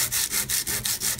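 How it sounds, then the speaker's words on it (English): Sandpaper rubs back and forth over the rough edges of a junk journal cover in quick, steady strokes, about six passes, close and fairly loud with no talking. "I just grabbed some sandpaper, and I'm just going to go ahead and sand off those rough edges"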